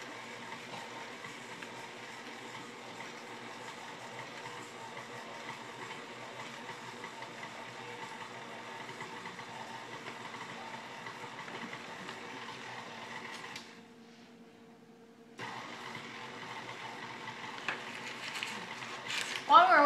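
Electric mixer blending cake batter with vanilla pudding, a steady low mechanical whir running for most of the stretch, briefly dropping out near the end, then resuming.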